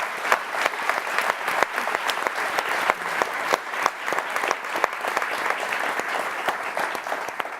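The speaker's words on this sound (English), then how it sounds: "So I want to join me in a round of applause for." A round of audience applause for a panel of speakers, many hands clapping close and steady with sharp individual claps standing out, no talk over it.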